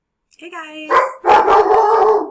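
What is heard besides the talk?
dog barking hello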